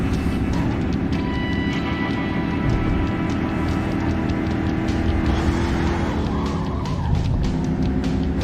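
Car driving fast and skidding in The Godfather II video game: a steady loud engine drone with tire squeal sweeping through, continuous and close for the whole stretch.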